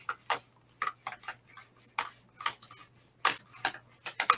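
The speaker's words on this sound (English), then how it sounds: "you're going to roll these marbles around" Ink-coated marbles roll inside a box, clattering and clicking irregularly against it, a busy rattling tap-tap with a faint steady hum underneath.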